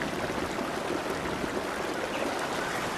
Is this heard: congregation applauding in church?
no